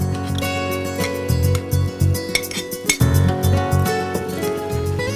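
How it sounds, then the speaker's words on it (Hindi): Paneer pieces going into a pan of softened capsicum bring repeated metallic clinks and scrapes of a utensil against the pan, with a steady background hum throughout and no talk. "अब हम इसमें डाल देते हैं ये पनीर।"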